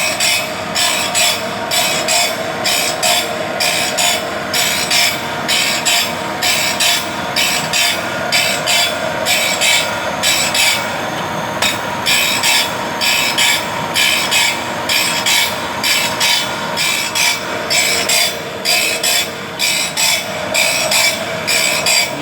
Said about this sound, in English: You can see how good the sharpening is.